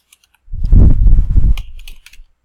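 A search keyword is typed on a computer keyboard in a quick burst of close, rapid keystrokes lasting about a second, followed by a few scattered clicks.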